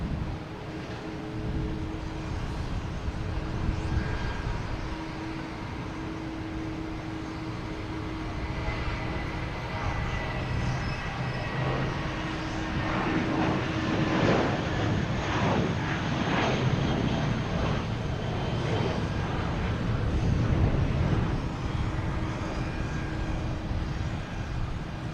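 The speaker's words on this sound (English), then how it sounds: "There we got JetBlue and A320 heading to Detroit." A JetBlue Airbus A320 jet departs Boston Logan for Detroit, a sustained, moderately distant engine rumble and roar with tonal whines that swells and fades across the stretch, with no voices.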